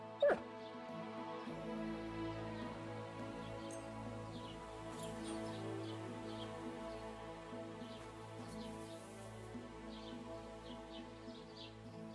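A dog in the video game Kingdom Come: Deliverance 2 whimpers and yips softly now and then over a steady outdoor ambience with light birdsong, the cries faint and intermittent.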